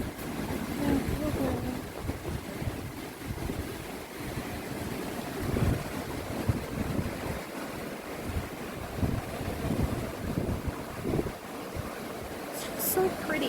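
Ocean surf rolls and washes steadily outdoors, with gusts of wind buffeting the microphone and a faint voice now and then.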